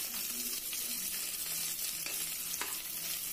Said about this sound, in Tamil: கட் பண்ணி வச்சுருக்கிற ஆனியனையும் கொட்டி அதில் நல்லா வதக்கணும்.